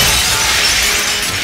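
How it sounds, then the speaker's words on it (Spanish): Glass shatters and falls during the intro of a concert tour, where a church set piece bursts apart, producing a loud, dense, continuous wash of crashing glass. "y ahí caen los vidrios"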